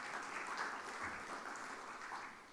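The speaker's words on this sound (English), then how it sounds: "So big round of applause to all of you." Sustained applause from members gathered at an international tax conference in Dubai, a steady wash of clapping hands held at an even level throughout with no voices.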